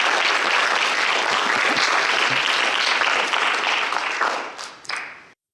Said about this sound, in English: I'll ask you kindly to give them a round of applause too.